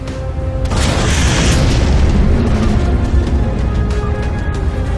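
A railgun shot and heavy explosion in the game Halo 4 erupt as a loud, sustained boom with rumbling debris, dense low roar filling the scene and slowly settling with scattered crackles.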